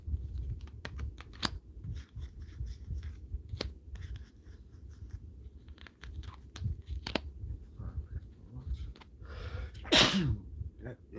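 A single sharp sneeze bursts out near the end, standing above a steady low background of faint tapping and clicking like keyboard typing in a quiet room.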